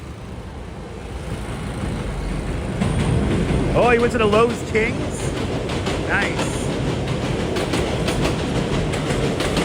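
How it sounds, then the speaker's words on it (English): New York City subway D train running on elevated tracks near 86th Street, a loud rumbling roll with rhythmic wheel clatter that builds and holds. Someone talks over it. "There's a D train, everybody."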